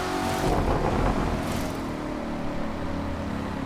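A supercharged 2019 Corvette ZR1 Convertible in The Crew 2 revs hard with wheelspin, a loud dense engine roar with a raspy burst early, then a steady strained drone.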